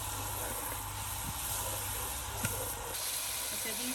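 Onions fry in a pan for an egg masala kabab dish, giving a steady, close hiss and sizzle that continues without a break, with a few faint clicks.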